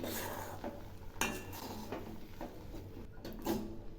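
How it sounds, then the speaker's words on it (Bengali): Rice flour being stirred in a pan while making vapa pitha, with soft scraping and light metallic clinks against the pan at an uneven rhythm. The sound is quiet and close. "এবার এগুলি ঘন ঘন নাড়তে থাকবো।"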